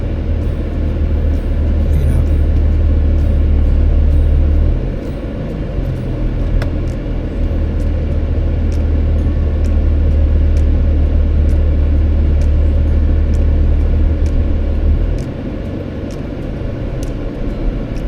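A car drives through traffic near a school in Murrieta, a loud steady interior engine and road rumble heard from inside the cabin, with faint clicks and no talking.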